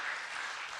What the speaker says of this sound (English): Big round of applause for our panelists, Massi, Daniel, Anne, and Rich.